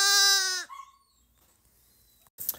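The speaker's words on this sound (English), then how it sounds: "I love baby sheep." A baby lamb lets out one clear, close bleat lasting about half a second, followed by faint rustling and quiet background sounds.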